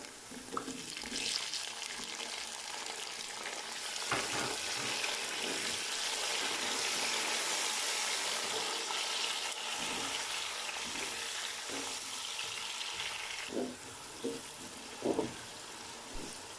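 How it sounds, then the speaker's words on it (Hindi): Soft, continuous sizzling of tomatoes and green chilies frying in a pan with garlic, with occasional stirring clinks and scrapes, fairly quiet throughout. "अब इसमें मैं टमाटर और हरी मिर्ची डाल दूंगा"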